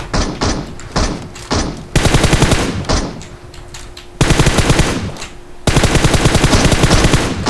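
Automatic gunfire from computer-controlled bots in the mobile battle-royale game PUBG Mobile, with rapid sustained bursts of shots broken by short pauses, loud and close.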